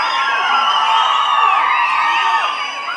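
A theatre crowd cheers and shouts at a screening, with dhol and tasha drumming filling the hall, a dense, loud wash of many voices holding steady for about three seconds before easing slightly at the end.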